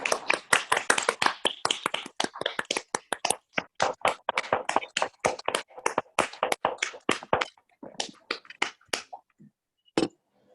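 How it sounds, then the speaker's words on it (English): Scattered applause from an online audience after a digital theatre camp show: a handful of people clap close to the microphone with uneven, overlapping claps that thin out to a few isolated claps at the end. "give a round of applause to our lovely performance and actresses"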